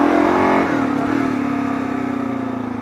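A Kawasaki KLR650 dual-sport motorcycle revs hard for a wheelie, engine note climbing loud and close, then dropping into a steady lower drone as it holds speed.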